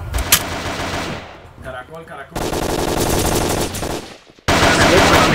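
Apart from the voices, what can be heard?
gunfire in a video game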